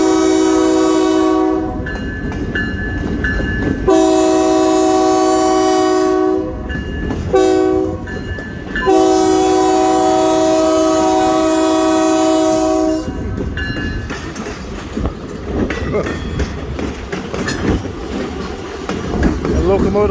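Iowa Interstate GP38-2 locomotive 711 passes close and loud in Chillicothe, Illinois, sounding several long horn blasts with engine rumble and rolling wheel noise between and after them.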